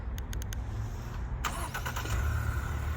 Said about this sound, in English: Let's do a little cold start of the Nautilus Black Label.